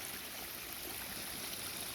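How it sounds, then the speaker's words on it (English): Stream swollen after a storm, water rushing in a steady, even broadband wash that stays loud and unbroken throughout. "you can see the water flowing"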